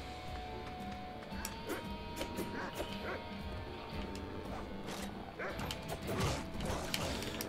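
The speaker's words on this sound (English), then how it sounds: "We can hear some dogs in the next area." Dogs bark in a video game, coming from the next area. Their sharp, scattered yips and woofs sound somewhat distant beneath steady mechanical clanking and ratcheting.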